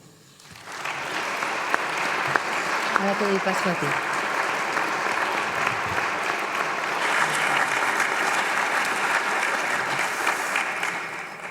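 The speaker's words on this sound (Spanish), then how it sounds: "les pido un fuerte aplauso, un emotivo aplauso para Augusto Ferrer Dalmau" An audience at a history lecture series applauds the painter Augusto Ferrer Dalmau, sustained full-room clapping that swells in and holds steady throughout, with a speaker's voice briefly heard over it.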